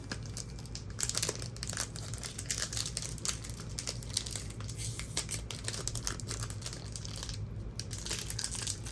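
A Magic: The Gathering booster pack's foil wrapper crinkles and tears nearby in dense, continuous crackling with sharper rips, with no talk.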